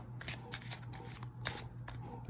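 A deck of Yu-Gi-Oh! style trading cards is shuffled by hand close up, with quick rhythmic bursts of riffling and card slaps, crisp and alone with no talk.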